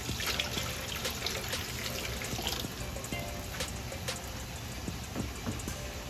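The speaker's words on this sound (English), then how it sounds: "I'm gonna add a cup of beef broth." Beef broth poured into a pot of oxtail sauce gives a steady, close liquid pour and trickle, continuous and fairly loud for several seconds with no talking.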